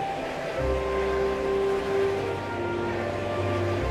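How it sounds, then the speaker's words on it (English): A cartoon freight train rumbles steadily with a low droning engine and a sustained horn-like tone, fairly close, with no talking. "That's Diesel, the freight train you met earlier."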